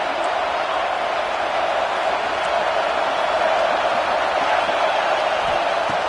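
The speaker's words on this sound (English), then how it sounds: "And here comes the noise. This crowd is trying to inspire this defense to make a big red zone stop." A stadium crowd at a Colorado college football game roars steadily as fans try to spur the defense in the red zone, a broad, sustained wash of noise with no distinct pauses.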